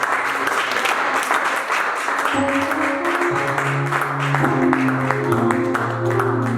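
Church congregation applauding at a French-language worship service, steady dense clapping throughout, with sustained organ or keyboard chords entering partway and continuing beneath the applause.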